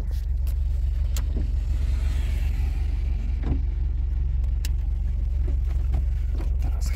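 An FSO Polonez car drives along, its low engine hum and road rumble steady and close from inside the cabin, with a few faint clicks and knocks over the continuous drone.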